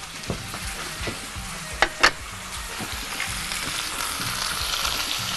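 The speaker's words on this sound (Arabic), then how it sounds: "عايزه احمرها كويس قوي من ناحيه الجلد" Chicken frying skin side down in a pan sizzles steadily and closely, with a couple of sharp clatters partway through and no talking.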